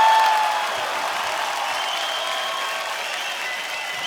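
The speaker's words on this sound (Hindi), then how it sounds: "प्लीज आप सबकी जोरदार तालियों के बीच इनवाइट करना चाहता हूँ" A studio audience at a television comedy show applauds a guest singer, a dense, steady wash of clapping and cheering that holds loud and even throughout with no talking over it.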